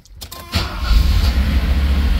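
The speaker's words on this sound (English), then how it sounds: "I can actually start the car and it'll run and it'll even drive" A 1983 Mercedes 380SL (R107) with a damaged wiring harness cranks briefly and catches, its engine settling into a steady, close idle rumble.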